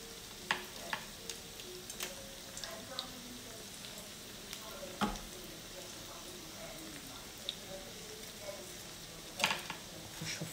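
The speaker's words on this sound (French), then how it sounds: "Vous chauffez l'huile et après vous les cuisez à petite température, en moyenne température." Chicken nuggets fry in oil at medium heat, a faint, steady low sizzle broken by scattered soft clicks and taps, with someone speaking over it at times.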